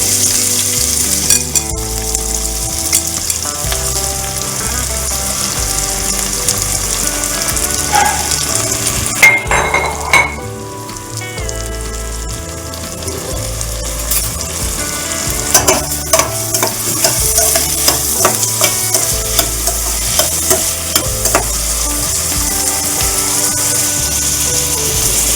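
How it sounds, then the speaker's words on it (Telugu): Sliced onions and green chillies fry in plenty of oil in a wok-style pan, giving a dense continuous sizzle with frequent scraping and clinking from stirring, loud and near, with no talking. "పక్కన బాండీలు పెట్టుకొని ఉల్లిపాయ ముక్కలు వేయించుకున్నామండి."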